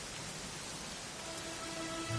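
Rain falling in the video game Dragon Quest 11, a soft, steady hiss of rainfall at low volume with a faint tonal hum of game music rising near the end, no voices.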